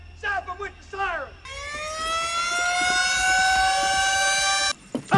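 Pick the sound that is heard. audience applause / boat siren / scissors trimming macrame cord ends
boat siren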